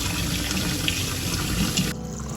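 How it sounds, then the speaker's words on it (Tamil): Steady running water splashing into a vessel while rice is washed, a continuous wash of liquid noise that thins out abruptly near the end. "அதை ஒரு பாத்திரத்தில் போட்டு நல்லா கழுவி எடுத்துக்கலாம்."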